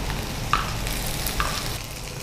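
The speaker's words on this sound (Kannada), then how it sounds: "ಎಲ್ಲವನ್ನು ಫ್ರೈ ಮಾಡ್ಕೊಳ್ಳೋದಾ? ಎಲ್ಲವನ್ನು ಫ್ರೈ." Fresh coriander and mint leaves fry in a pan for a chicken green masala, a steady close hiss with two light clicks of a spoon against the pan.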